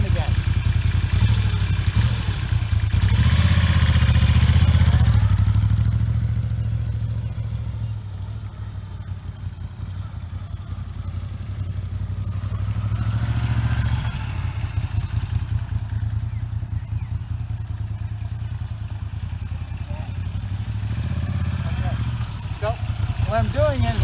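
A Moto Guzzi V7 motorcycle creeps slowly through a cone weave, its engine a low, steady rumble that swells early and then settles, with a person talking over it.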